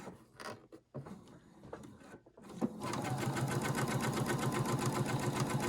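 A sewing machine runs steadily, stitching quilt block pieces for a lone star or LeMoyne star block in dark thread, dot to dot through the center; a few brief handling clicks and soft shuffles come first, then a continuous rapid whir.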